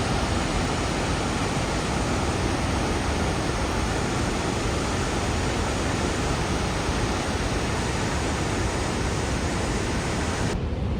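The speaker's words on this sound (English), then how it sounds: "I've come to the Chandler Falls" A steady, dense roar of rushing water from Chandler Falls fills the whole stretch, loud and continuous with no voices, cutting off abruptly at the very end.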